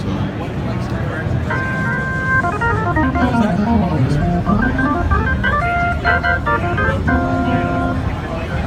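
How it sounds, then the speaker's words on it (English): A Hammond XK dual manual organ playing straight tone with no Leslie effect and no vibrato, sustained chords and short held notes over a steady, noisy background, with a single brief spoken word near the start. "So this is the sound of the organ by itself, no Leslie effect."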